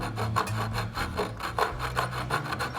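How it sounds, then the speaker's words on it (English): Steady close-up rasping and rubbing of a Fret Kisser fret file against a high metal guitar fret, repeated strokes filling the whole stretch with a low hum underneath. "I can still feel the abrasive part of the fret kisser hitting that fret"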